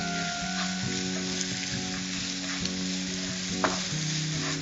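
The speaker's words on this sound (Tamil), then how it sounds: "வெங்காயம் வதங்கிடுச்சு." Onions sautéing in a hot pan give a steady, close sizzle with occasional stirring scrapes and clinks. There is no talk over it.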